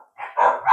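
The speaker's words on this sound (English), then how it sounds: "my dogs bark if someone walks past our house" Dogs inside a house barking at someone walking past, giving two or three quick, mid-pitched barks close by, loud and with no talk over them.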